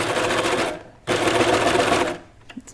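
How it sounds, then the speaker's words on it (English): A sewing machine stitches knit T-shirt fabric in two loud, close bursts of rapid whirring with a brief pause between them, then slows to a stop. "I'm gonna start sewing."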